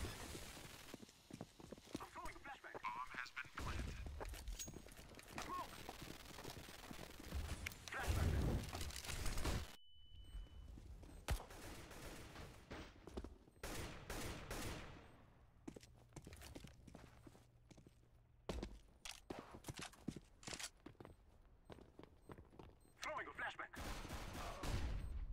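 Gunfire in the competitive match of Counter-Strike: Global Offensive, with bursts of sharp shots scattered through the passage, mixed with running footsteps and other game action.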